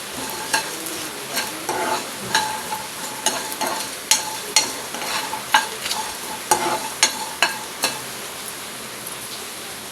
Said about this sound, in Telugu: 4 వెల్లుల్లి రెబ్బలు, అలాగే ఒక 2 ఇంచుల అల్లం ముక్క వేసి వేయించాం